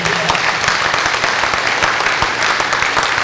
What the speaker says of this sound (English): we want you to give her a nice round of applause for doing that